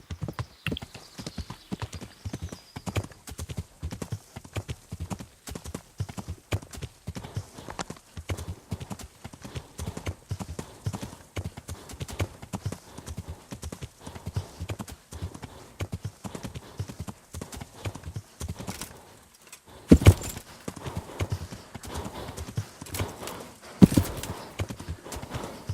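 Horse hooves from the video game Kingdom Come: Deliverance clip-clop in a steady, close rhythm throughout, with a couple of sharper knocks near the end.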